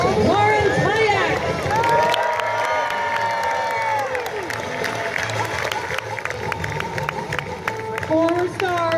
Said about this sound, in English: a big round of applause for our special guest